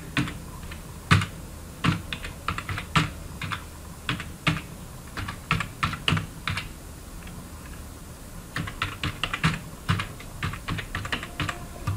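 Bursts of typing on a computer keyboard while entering names into an Excel spreadsheet, close and clear keystrokes in irregular runs with a short pause near the middle.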